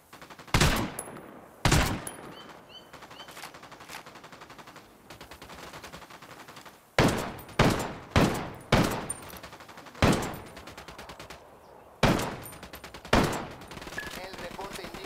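Bursts of automatic gunfire from a Ghost Recon Wildlands raid, loud and close, arriving in repeated volleys with brief pauses between them, and a voice talking faintly in the quieter gaps.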